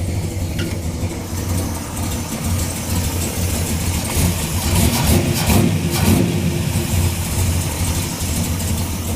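The engine of a Plymouth Road Runner runs loud and close, holding a steady rumbling idle that swells slightly in the middle before settling, with no voices.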